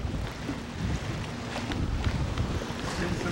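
Wind gusting against the microphone on a boat, a steady rough buffeting roar with low rumble that fills the short stretch, loud and continuous, with no talking.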